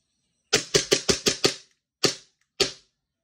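A WE Glock 17 Gen3 airsoft pistol fires BBs in eight sharp, close, loud pops, six in a fast run and then two spaced single shots.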